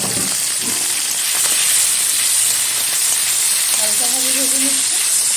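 Fish oil with black cumin seeds frying in hot oil in a wok: a loud, continuous close-up sizzle and hiss throughout, with a faint voice speaking underneath.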